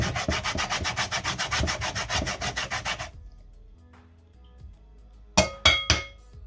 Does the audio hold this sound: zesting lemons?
yes